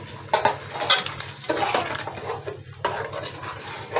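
A spoon scrapes and knocks against a pot while red chili and garam masala are stirred into haleem, giving irregular clinks and scraping strokes over a low hum of cooking, with no talking.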